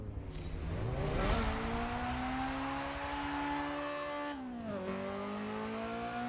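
A Honda Civic Type R EP3 pulls away on a race track, its engine revving up through the gears with a rising, steady drone, dipping at a gear change then climbing again, close and loud throughout.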